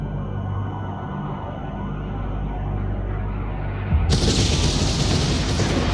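A spaceship takes kinetic weapon hits in the game Homeworld 3, heard as a low rumbling drone that breaks into a loud, crackling burst of impact noise partway through.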